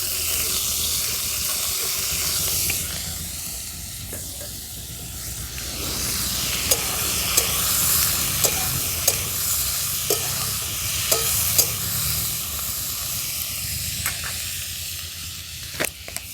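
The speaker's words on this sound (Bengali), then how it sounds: "দিয়ে দিচ্ছি পেঁয়াজ কলি আর বেগুন যে কেটে রেখেছিলাম সেগুলো দিয়ে দিচ্ছি।" Onion stalks and eggplant fry in a pan with potatoes, a loud continuous sizzle and hiss throughout, punctuated by scattered clicks and clinks of a spatula against the pan.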